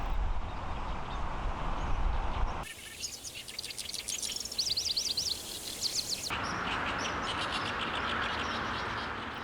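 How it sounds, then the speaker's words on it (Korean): Birds call and chirp at the Janghang wetland beside the Han River fence, bright repeated notes over a windy background. A burst of rapid trilling phrases stands out in the middle. "철책을 자유롭게 넘나드는 건 새들의 노래와 날개입니다."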